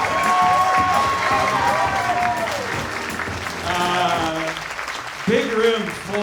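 A live audience at a Harmontown podcast show in Austin, Texas claps and cheers, a dense wash of applause with loud whooping and shouting voices riding over it throughout.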